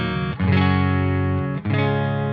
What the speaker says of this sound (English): again I dialed a sound that I like with the distortion channel and it works on cleans